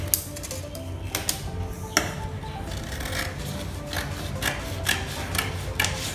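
Scissors snip through face mask fabric along a drafted pattern, a steady close scraping and rubbing with sharper cutting clicks recurring every second or so, no voices.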